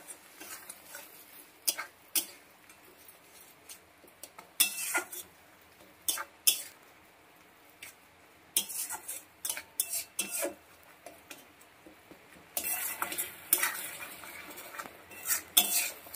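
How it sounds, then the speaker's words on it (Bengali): A spoon stirs tomato, sour yogurt and spices in a pan, giving quiet bursts of scraping and clicking against the metal that come and go irregularly over a faint low sizzle. "সমানে নেড়ে নেড়ে মশলাটাকে কষিয়ে নেব"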